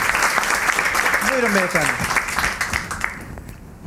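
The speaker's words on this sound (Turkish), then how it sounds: "Büyük alkış." Studio audience applauding on a Turkish comedy show set, steady dense clapping throughout while a voice speaks briefly over it.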